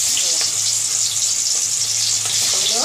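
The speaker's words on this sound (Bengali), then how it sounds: "এবার এগুলোকে কড়াইয়ে রাখো, তেল গরম হয়ে গেছে। এবার কড়াইয়ে ভাজা হবে" Red-marinated spicy chicken pieces for chicken kosha fry in hot oil in a kadai wok, giving a loud, steady, close sizzle with occasional crackles and no talk.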